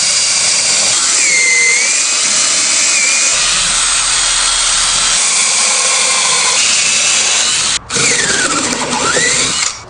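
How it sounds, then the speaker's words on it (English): A power drill bores holes into the corners of a wooden picture frame, producing a loud continuous whine with rising and falling pitch as the bit bites. There is a brief stop near the end before it spins up again. "So I've drilled all the holes in all the 4 corners"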